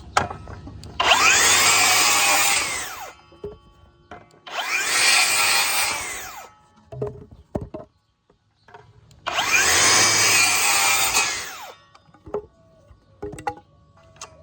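A Flex battery-powered rear-handle circular saw makes three loud, whining cuts, each a few seconds long, separated by quiet pauses with small clicks and handling noises.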